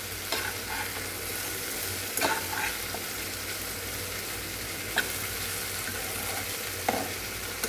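Onions frying in oil in a pan on a home kitchen stove, a steady close sizzle broken by several sharp scraping stirs of a spatula, with no talking.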